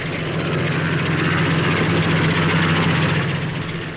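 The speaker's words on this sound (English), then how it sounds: "And the jet Gyrodyne." A loud, continuous roar of a jet gyrodyne rotorcraft, with pressure jets at its rotor tips, overhead at the Farnborough Air Show, steady and heavy throughout, with no talking.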